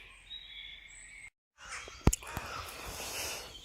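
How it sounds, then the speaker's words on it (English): Birds calling at sunrise at a wild camp, with crow-like caws and scattered chirps over a soft background hiss, a brief dropout midway, then a few sharp close knocks. "Just lie here for a bit and listen to the birds."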